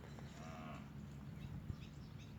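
A Brahman bull, chosen as breeding stock on a Thai cattle farm, gives a faint, brief low moo over a steady background of farm noise.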